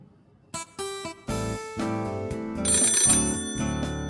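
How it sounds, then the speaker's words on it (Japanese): A telephone rings in an old-fashioned Showa-era Japanese house setting, a loud electronic ringtone with repeated bursts of bright tones starting after a brief quiet moment and continuing steadily, with no talk. "電話かかってきた"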